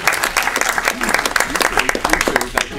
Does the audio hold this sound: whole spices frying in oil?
no